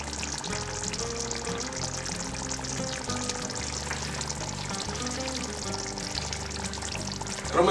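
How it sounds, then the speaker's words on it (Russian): Warm water poured into a pot for Bukharian Jewish plov, a steady rushing sizzle with rhythmic low thumps underneath, a brief louder burst at the very end. "И заливаю это теплой водой."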